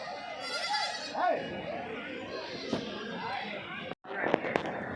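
Goats and bucks at a crowded weekly livestock market in Kadiri, with bleats rising over a constant din of traders and buyers chattering and haggling nearby.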